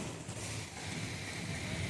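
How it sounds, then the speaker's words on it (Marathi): Light rain beginning on a Saturday evening, a soft, steady hiss of fine drops with faint low rumble underneath, quiet and continuous with no one speaking. "पाऊस स्टार्ट झाला आहे थोडा थोडा।"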